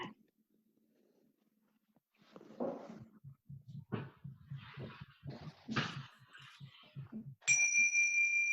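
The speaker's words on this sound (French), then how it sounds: "Et je vais sonner la cloche." A meditation bell is struck once near the end, a clear bright tone that rings on steadily; before it come soft knocks and shuffling handling noises.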